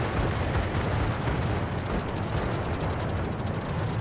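Warship guns fire in the naval combat game World of Warships, a dense continuous rumble of booming salvos and explosions with no clear gaps.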